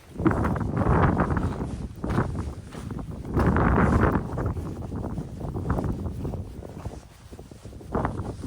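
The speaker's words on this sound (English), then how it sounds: "Hear that wind coming back." Wind gusting on a hiking trail, rushing in rough waves against the microphone with louder surges and quieter lulls, close and alone.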